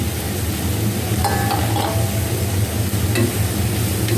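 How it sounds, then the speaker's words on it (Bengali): Chopped onion and green chili frying in hot oil in a pan for a homemade beef kebab, giving a steady, loud, close sizzle with a few faint clinks of stirring and no talk. "পেঁয়াজটা একটু ভাজা হোক"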